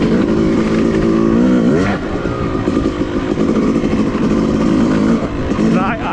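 Dirt bike engine lugging in fourth gear at around twenty miles per hour on an off-road trail, a loud continuous low drone with a brief surge near two seconds and another near the end, and a rider talking over it.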